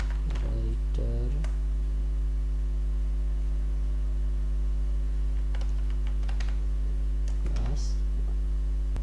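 Keystrokes type a file name on a computer keyboard into a Save As dialog of LibreOffice Writer: scattered soft clicks in short bursts, close and fairly faint, over a strong steady mains hum, with someone speaking Hindi between them.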